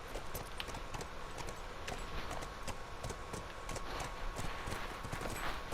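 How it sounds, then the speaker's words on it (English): Horse hooves clip-clopping steadily in the video game The Last of Us, a brisk, even rhythm of hoofbeats over a continuous background wash, with no talking. "We're going to drop down and get back on our horse."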